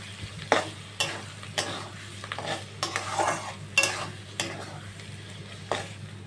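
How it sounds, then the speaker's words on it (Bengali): A prawn, green chilli and garlic paste fries in oil over medium heat, a spoon scraping and clacking against the pan in repeated strokes roughly every half second over a soft, steady sizzle. "তো দেখো এখন আমি মিডিয়াম আঁচে একটু নাড়াচাড়া করে নেব।"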